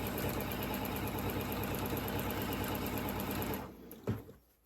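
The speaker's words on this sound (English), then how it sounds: "just top stitch right along the edge here. That way we know everything is secure." A sewing machine runs steadily, close and continuous, as it top stitches fabric an eighth of an inch from the batting's edge. It then stops, leaving a brief click and handling noise.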